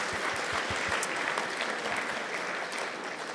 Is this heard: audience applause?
yes